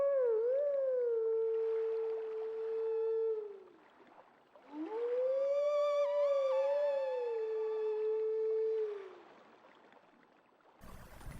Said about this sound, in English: Yep, we howl the same song.